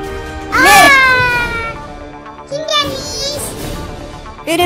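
A cartoon cat meows, voiced by a person imitating the sound with rising, sliding tones. Two loud meow-like calls are separated by a quieter stretch.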